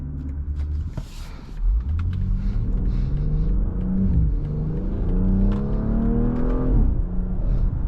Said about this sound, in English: The exhaust crackles and pops, sounds really good.